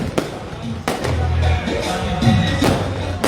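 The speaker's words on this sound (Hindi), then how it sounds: "किस तरह से यहाँ पर भव्य आतिशबाजी आसमान में हो रही है" Grand fireworks display in Ajmer: several sharp bangs burst across the sky in irregular succession, loud and close, over a continuous crowd murmur and background noise.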